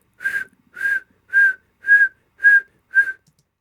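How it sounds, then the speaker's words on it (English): Six short, clear whistled notes from a person, evenly spaced and steady in pitch, sounding close and alone with no talking. "I'm not good at whistling."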